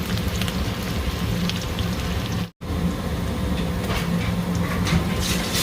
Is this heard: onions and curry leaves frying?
yes